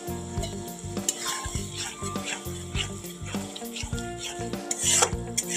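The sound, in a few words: ground spices being stir-fried in pan for katla fish kalia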